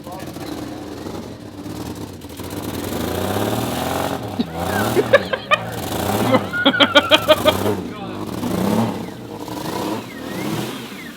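A 2000 Toyota Camry engine runs with a broken serpentine belt, idling and revving unevenly with rattling ticks, while people talk loudly over it nearby.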